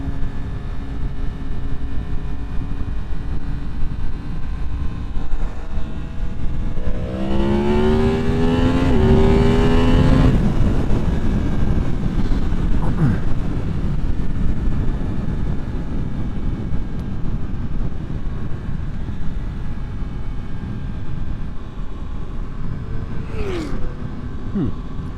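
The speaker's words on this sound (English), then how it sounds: "Somebody had a loud car or truck." A loud car or truck passes at night, rising over the steady wind and engine roar of a moving motorcycle, peaking and sweeping past for a few seconds, then fading.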